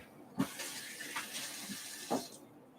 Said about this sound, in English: Get our little 1/4 cup out. Rinse that off.